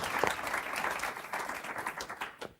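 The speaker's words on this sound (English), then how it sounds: "Everyone, another round of applause from Rohan Silva." An audience claps and applauds after a talk, a short burst of steady, dense, moderately distant clapping alone.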